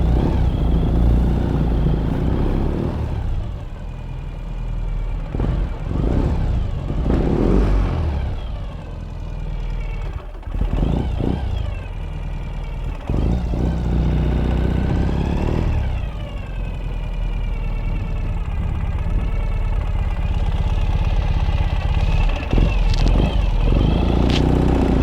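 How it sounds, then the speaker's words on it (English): A 2018 Ural Gear Up motorcycle in Woodland Camouflage runs from a cold start in a showroom, its exhaust giving a loud, steady, close engine rumble that swells and dips slightly throughout. "Oh, nice sound from the exhaust."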